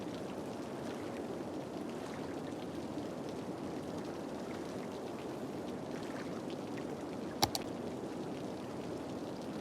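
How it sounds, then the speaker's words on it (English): Steady, faint rainfall in the city-building game Cities: Skylines hisses evenly throughout, with one brief sharp click near the end. "Might have a flooding problem because it's raining so hard."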